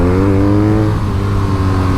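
A BMW R1250R motorcycle engine pulls steadily under throttle on a test ride, a loud, continuous droning tone that holds even and close for about two seconds.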